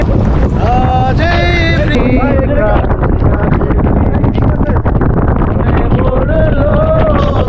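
Boat Behula under way on Tanguar Haor in heavy rain and rough waves, with a steady wash of wind and water throughout and people talking over it.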